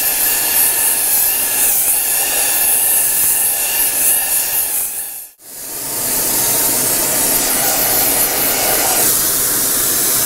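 A torch roars steadily while heating an exhaust tube for silver soldering, a loud continuous hiss that cuts out briefly midway before resuming at full strength.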